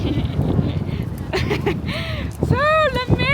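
Strong wind buffeting the microphone at a cold beach beside the Golden Gate Bridge in San Francisco, a steady roar throughout with voices speaking over it.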